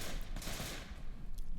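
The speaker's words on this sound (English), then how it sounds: "Scuba Steve pre-firing into the tunnels." Bursts of rapid automatic gunfire ring out in a PavlovVR match as shots are pre-fired into tunnels, a fairly faint, distant rattle of several volleys with no talk over it.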